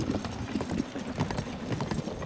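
Horse hooves gallop in a steady, rapid clip-clop rhythm while riding in the video game Zelda: Tears of the Kingdom, close and continuous throughout with a light game ambience underneath.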